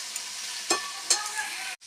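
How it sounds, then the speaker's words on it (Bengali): Potatoes fry in a pan with mustard paste, a continuous close sizzle broken by a couple of sharp spatters and stirring scrapes before a sudden brief drop in sound. "সরষের মধ্যে যে একটু সেন্ট ওঠে সেটাকে ততক্ষণ পর্যন্ত ভাজবো আমরা, যতক্ষণ না আলুর গায়ে সরষেটা লেগে যাচ্ছে একদম।"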